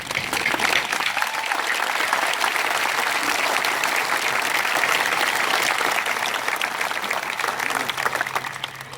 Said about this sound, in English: give a round of applause for the Blue Mountain High School class of